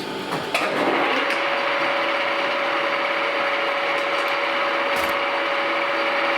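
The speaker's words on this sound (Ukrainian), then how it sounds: "І фрезеруємо дві лиски під ключ на 46" A heavy vertical milling spindle cuts two flats for a 46 wrench, starting with a clunk and then settling into a steady whining hum over a bed of cutting hiss, with a faint click near the end.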